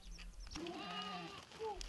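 Goats and sheep from a herd of several dozen at a Mongolian herder family's tent compound, with a few wavering bleats close by over faint background noise.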